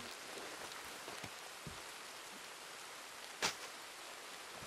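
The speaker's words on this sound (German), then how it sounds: "Es regnet rein." Rain falls in the Red Dead Redemption 2 world, pouring in through a hole into an enclosed space. It is a soft, steady hiss of drops with a few scattered pattering taps and one brief louder knock, quiet throughout.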